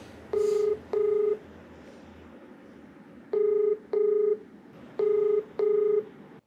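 A telephone keypad sends six clear touch-tone beeps in three pairs, each beep about half a second long, loud and alone against faint background hiss.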